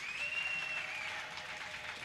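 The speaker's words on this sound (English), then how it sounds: "Ladies and gentlemen, let's applaud all our hospitality students." Brief burst of audience applause at a college graduation, dense steady clapping from a crowd that fades slightly toward the end, with a faint high whistle early on.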